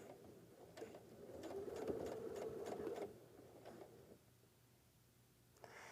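A sewing machine stitches across an X on a sawtooth and triangle square quilt block, a quiet, steady mechanical whir lasting about two seconds before stopping, with a few soft clicks afterward.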